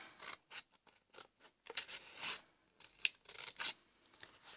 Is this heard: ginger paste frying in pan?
no